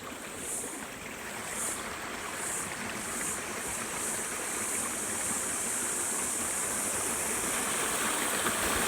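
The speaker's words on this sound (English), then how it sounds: "And you've got the water spilling down over the rocks." Creek water spilling steadily over rocks at South Kobble Creek Falls in subtropical rainforest bush, a continuous close broadband rush that holds level and swells slightly toward the end, with faint repeated high insect-like chirps above it.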